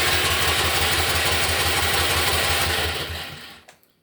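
A Honda snowblower engine with electric start runs with a close, loud, rapid chugging rhythm, then winds down and cuts off near the end, followed by a couple of faint clicks.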